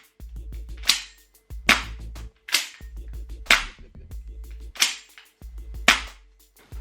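A stock Tokyo Marui M4 airsoft gas blowback rifle fires on full auto in six short bursts. Each burst is a quick run of sharp, loud snapping shots followed by a hissing gas release, with brief pauses between bursts.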